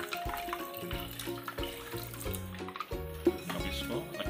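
Water pours steadily into tamarind pulp for golgappa paani, a soft, faint splashing stream running for a few seconds beneath quiet background music.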